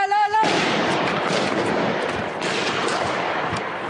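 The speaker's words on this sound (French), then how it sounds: "Les tirs nourris résonnent alors" Heavy gunfire rings out during a shootout inside a building, a dense continuous barrage of shots echoing loudly after a brief tone at the start.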